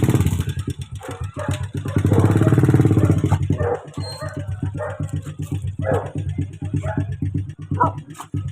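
A motorcycle engine swells and fades as it passes along a street in Barangay 91, Tondo, mixed with nearby speech and dog barks.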